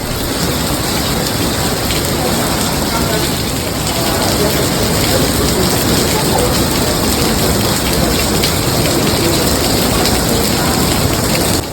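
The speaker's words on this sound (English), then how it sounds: "suddenly it started raining heavily" Loud, constant downpour of heavy rain drumming on surfaces at a resort in Phu Quoc, Vietnam, dense and steady for the whole stretch.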